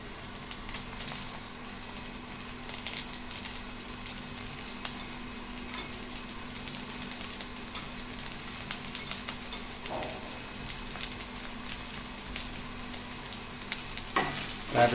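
Potatoes and night jasmine flowers frying in a pan, with a steady soft crackling sizzle and occasional faint stirring scrapes near the end.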